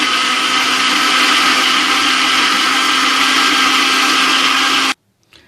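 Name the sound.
blender grinding cake batter with milk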